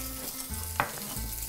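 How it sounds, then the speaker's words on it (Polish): Bacon sizzles and fries steadily in a hot pan for spaghetti carbonara, a close, continuous crackling hiss with a brief stirring clink, and no voices. "Wrzucamy nasz boczek, żeby on, słyszycie? Słyszycie? Muzyka dla moich uszu, czyli nam to się pięknie smaży."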